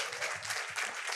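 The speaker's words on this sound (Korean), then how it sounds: "그럼 박수 좀 부탁드리겠습니다" A lecture hall audience claps at a university talk, a brief, fairly soft burst of overlapping handclaps heard from a distance.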